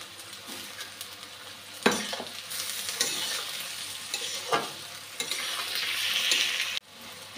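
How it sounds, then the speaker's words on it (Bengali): Onion, green chilli and ginger-garlic paste frying in a pan, a steady close sizzle broken by several clanks and scrapes as the pan is stirred, ending with an abrupt drop in level. "আদা রসুন পেস্টটাও দিয়ে দিচ্ছি"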